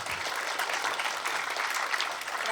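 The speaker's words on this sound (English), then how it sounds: "One more round of applause for Hank Phillippe Ryan, Robert Tigani, Robert Verbeck, and Michelle Gable." Audience applause after a book panel discussion, a dense, even patter of many hands clapping throughout, moderately distant and without talk.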